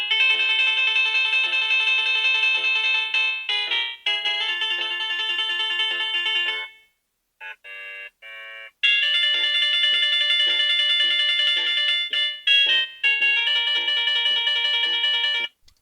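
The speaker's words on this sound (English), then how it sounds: "Hey, I like your ringtone." A phone ringtone called Donkey plays a bright, looping electronic melody of repeated phrases, loud and close, with a short broken pause in the middle before the tune resumes.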